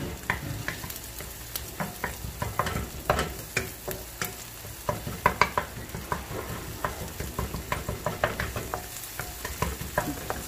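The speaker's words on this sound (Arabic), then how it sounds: "يعني شغلة دقيقتين بيتقلبوا مع بعض مع البصل" Red pepper paste and onions for muhammara get stirred in a hot frying pan, a steady sizzle broken by quick, rhythmic scraping strokes of a utensil across the pan, close and fairly loud.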